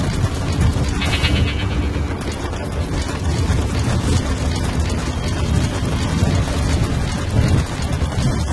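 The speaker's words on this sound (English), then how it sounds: "Caution, rain approaching." Steady rain in the game Metal Gear Solid V: The Phantom Pain, a dense, continuous wash of falling water with low rumbling underneath, loud and even throughout with no voices.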